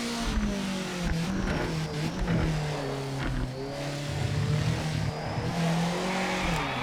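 A race car in a racing video game, its loud engine holding a steady high drone that rises and dips with throttle, while tire squeal and skidding run under it continuously.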